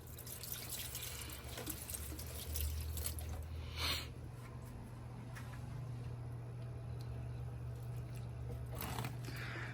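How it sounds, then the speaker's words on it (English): Water running and splashing steadily while houseplants such as a begonia are watered indoors, a continuous close wash of liquid over a low hum, with a brief stronger pour midway. "Let's go ahead and water some plants."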